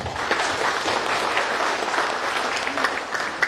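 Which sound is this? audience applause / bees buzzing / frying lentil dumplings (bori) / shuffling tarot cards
audience applause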